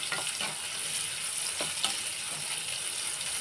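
Broken wheat (daliya) frying in a pan, a steady bright sizzle with intermittent scraping stirs, close and continuous, with no talk.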